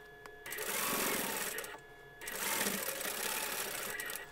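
A sewing machine stitches around the edge of a zippered quilted candy bag, two loud sustained runs of rapid needle chatter separated by a short pause, close up and alone.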